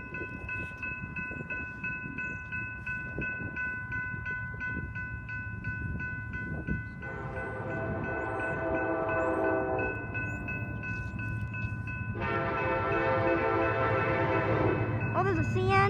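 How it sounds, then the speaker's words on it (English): An eastbound BNSF intermodal freight train led by locomotive 8546, with a CN unit, rumbles past steadily while bell-like tones and horn blasts sound intermittently, the rolling noise growing louder over time. "We have an intermodal train coming,"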